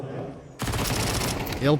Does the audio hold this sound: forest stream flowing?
no